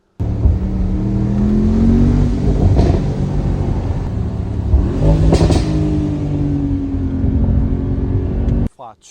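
A 2023 Mercedes SL63 AMG V8 starts up and revs, loud and close, its deep engine note rising and falling through several throttle blips before cutting off abruptly, with talk over it.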